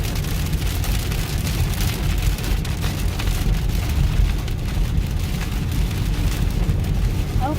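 Heavy rain pounds steadily on a car while driving home through a severe thunderstorm in Texas, a dense, constant roar of drops close around the vehicle with no break.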